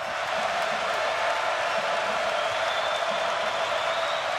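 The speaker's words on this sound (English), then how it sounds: "Late night crowd here at Memorial Gymnasium trying to propel their team to a monumental comeback." A late-night basketball crowd at Memorial Gymnasium roars steadily, a dense, loud wash of cheering and applause that holds without a break.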